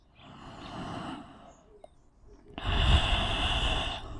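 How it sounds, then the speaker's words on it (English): Deep, slow breaths during a hip-opening yoga stretch, a softer exhale first and then a louder, fuller rush of air close to the microphone, with no talking. "Taking deep breaths."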